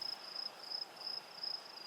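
A cricket chirps in steady, evenly spaced high trills, faint and alone against a quiet background.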